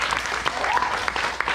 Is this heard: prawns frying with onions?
no